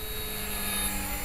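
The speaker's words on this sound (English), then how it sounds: "You can probably hear a little screeching sound" HK-450 flybarless RC helicopter with a Turnigy Typhoon 2218H motor on a 12T pinion and an integrated tail: a steady high-pitched whine and screech with a throbbing rotor hum, close and continuous.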